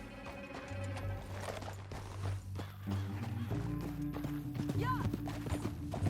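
Horse hooves clip-clop at a gallop in the Red Dead Redemption 2 game, a steady rhythmic pounding under game music and sound effects, with a brief spoken word partway through.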